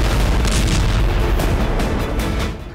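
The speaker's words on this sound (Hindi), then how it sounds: "धमाके सीरिया के अलेप्पो में हुए" Artillery fire and explosions in war-torn Aleppo, Syria, make a loud, continuous rumble of booms and blasts that fades slightly at the end.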